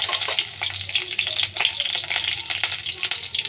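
Prawns sizzling and frying in a pan for lau chingri, a crackling hiss with irregular spattering bursts and occasional stirring, close and continuous, with no voices.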